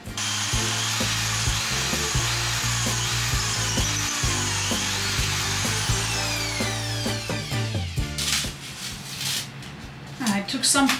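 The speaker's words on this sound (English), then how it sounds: "I'm going to try to drill into the tile" A power drill bores into ceramic bathroom tile during an attic bathroom renovation, a loud continuous whining grind that shifts in pitch and then gives way to rougher rattling scrapes near the end.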